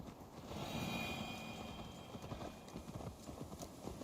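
Horse hooves clip-clop in a quick steady rhythm in the video game Assassin's Creed Valhalla, fairly faint, with no voices.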